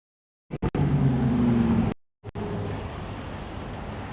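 An exotic sports car, a Lamborghini or Ferrari, drives past on a street in Japan, its engine a loud, close, sustained broadband roar that breaks off abruptly mid-pass before returning and fading slightly.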